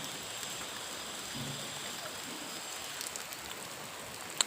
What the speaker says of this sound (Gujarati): તમે જોઈ શકો છો મિત્રો વરસાદ આવી ગયો